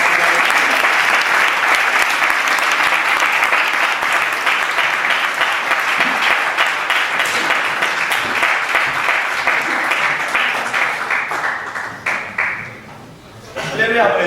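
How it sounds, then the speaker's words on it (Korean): Sustained applause from an audience at an academic seminar on Calvin in Geneva, loud steady clapping that tapers off toward the end as a voice begins speaking. "우리 박수로 먼저."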